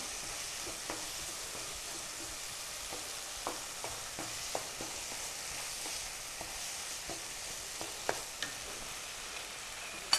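Boiled kabuli chana and vegetables sauté quietly in a pan for kabuli pilaf, a faint steady sizzle broken by a dozen or so soft scraping and tapping stir strokes, with no talking.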